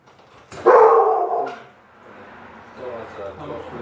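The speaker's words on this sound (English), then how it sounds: "Bird dog's gonna start barking." A dog barks in a loud, close burst, then quieter sounds and voices of people talking follow.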